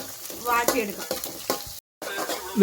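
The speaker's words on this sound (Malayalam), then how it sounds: "നമ്മുടെ വെണ്ടയ്ക്ക് ഏകദേശം മൂത്ത് സെറ്റ് ആയി വന്നുകൊണ്ടിരിക്കുകയാണ് ഫ്രൈ ആയി തുടങ്ങിയിട്ടുണ്ട്" Okra frying and being stirred in a pan for a Kerala-style curry, with steady sizzling broken by scraping stirs and a brief dropout partway, close and moderately loud with no talking.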